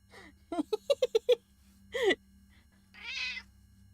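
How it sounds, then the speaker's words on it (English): A cat meows in a quick series of short, high cries, followed by a longer meow and a softer, breathy call, close by with no talking. "That's not a giraffe, that's a kitty cat."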